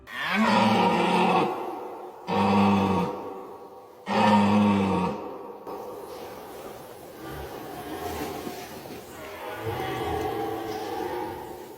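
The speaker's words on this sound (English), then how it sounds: "It sounded like a deep guttural roar" A deep, guttural roar from an unseen animal in a forest, sounding three times in loud, drawn-out bursts before fading into quieter rumbling and a softer, lingering call, with no talk.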